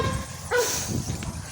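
A dog gives a single short bark mid-way, fairly near, over low background rumble and faint voices.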